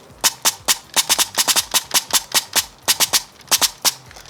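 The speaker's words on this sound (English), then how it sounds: "you guys just saw this gun get shot, the one with the blue tube" An HPA airsoft gun fitted with a blue air tube fires a rapid, irregular string of about eighteen sharp, crisp snaps in quick clusters, loud and close with no voices.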